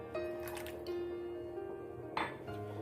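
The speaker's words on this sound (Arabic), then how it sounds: "ونصبوا 3 كاس متاع ماء بالحليب" Water mixed with milk poured into a cooking pot while making chicken cannelloni, a brief liquid splash and gurgle with clinks of the pot and glass, close and moderately loud, no talk.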